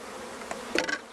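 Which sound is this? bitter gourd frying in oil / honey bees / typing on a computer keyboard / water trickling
honey bees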